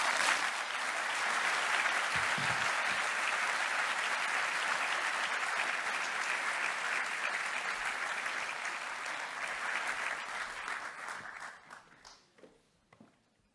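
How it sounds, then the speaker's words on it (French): A large audience of about 400 people warmly applauds the speakers at a civic-engagement conference, a dense sustained ovation that holds steady and then tapers off into scattered claps and near silence. "vous pouvez chaleureusement les applaudir"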